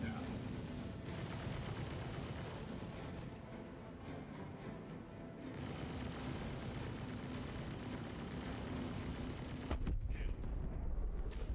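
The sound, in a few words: weapon fire hitting a ship in the video game Star Citizen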